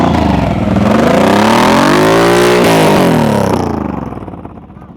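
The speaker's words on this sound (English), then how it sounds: "most people would be concerned with hearing all of that throttle, but that's just him getting accustomed to staying in the throttle in the turn" A motorcycle on a slow-speed turning practice run sweeps past with a rising then falling engine pitch as throttle is held through the turn, loud and close before fading away.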